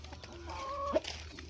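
A hen gives a short, faint cluck, with soft farmyard chatter from chickens and a rooster in the background on a poultry farm.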